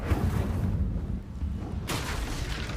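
Incendio fire spell cast in Hogwarts Legacy, a loud rushing whoosh of flame and low rumble, swelling again with a bright burst near the end, close and continuous.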